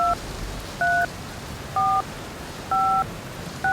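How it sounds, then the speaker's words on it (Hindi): A phone number is punched in on a second phone, giving five clear two-tone keypad beeps in an uneven rhythm over a low background hiss. "वो अपने दूसरे फोन से उस नंबर को डायल करता है।"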